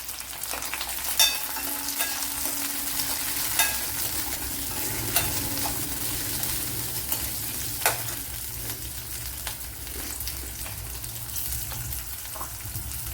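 Curry leaves crackle and sizzle steadily in hot oil in a pan, a dense continuous frying hiss with occasional sharper pops and faint stirring clinks, close and moderately loud, no talking.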